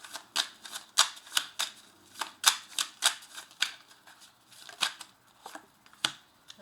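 Oracle cards are shuffled by hand in quick repeated riffles, a string of sharp papery flutters and snaps at an uneven rhythm, close and clear with no talking.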